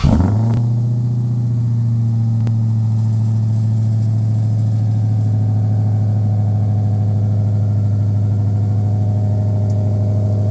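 A big V8 engine, from a 1969 Plymouth Roadrunner or an 800 hp SRT Hellcat Redeye, cranks and fires up, then settles into a deep, steady, rumbling idle close by.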